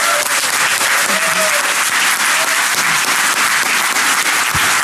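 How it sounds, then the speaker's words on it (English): Applause from a DEFCON hacker conference audience after a talk, a loud, dense, continuous roar of clapping filling the room for about five seconds. "A big round of applause for Jim."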